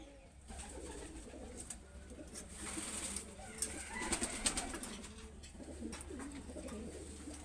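Golden Imamdin pigeons, including a female, coo softly in a loft, with low steady murmuring throughout and a few brighter chirps near the middle.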